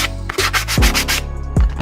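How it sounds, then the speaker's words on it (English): A power drill fitted with a wire brush attachment scrubs old painted wood, giving a close, loud, continuous abrasive rasp with short strokes and brief dips between passes. "I've got this wire brush attachment thing for my power drill. And just go over it like that"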